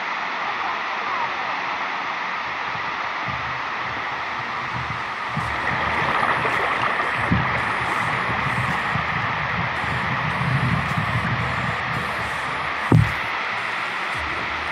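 Monsoon waterfall at Matheran hill station, a loud, steady broadband rush of falling water that continues unbroken throughout, with a brief thump near the end.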